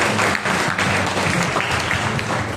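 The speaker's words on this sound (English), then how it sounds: "A more mighty clap to the Lord" Congregation clapping to the Lord at a Monday prayer meeting, loud, sustained applause from a packed room, dense and unbroken for the whole stretch with voices mixed in.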